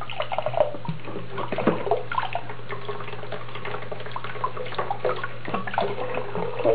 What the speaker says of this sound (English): and then add more warm water